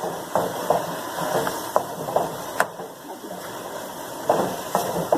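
Mutton karahi with turmeric, onion and spices cooks in a pan over a high flame, giving a steady close sizzling hiss broken by scattered sharp pops and crackles, with no talking.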